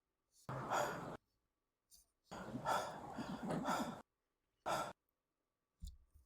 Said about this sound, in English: Hear the breathing. He's sucking for air.